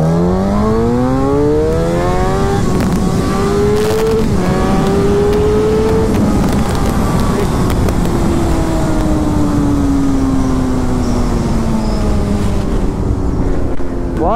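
A Suzuki GSX-R 1000 superbike at full throttle, its engine note climbing in a series of loud, rising sweeps through the gears and then holding a sustained high-revving howl, close and dominant throughout.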